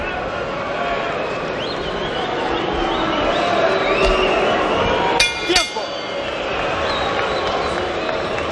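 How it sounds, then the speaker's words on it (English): Restless crowd murmur fills a boxing arena during a slow middle round of the Juan Manuel Marquez versus Orlando Salido fight, a steady broad hubbub with a short burst of shouts and clinks near the end, under commentary. "as the crowd here gets restless"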